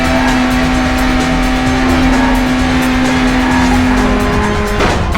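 Racing cars in the PS2 game Burnout, loud continuous engine roar with tires squealing as the cars drift through traffic, a sharp burst of noise at the end.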